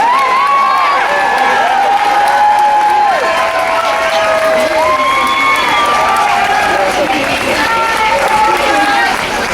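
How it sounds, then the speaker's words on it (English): Crowd at an outdoor anti-Trident demonstration clapping and cheering, loud and sustained, with voices and shouts over the applause throughout. "massive round of applause"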